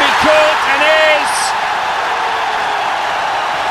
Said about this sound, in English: Listen to that crowd now.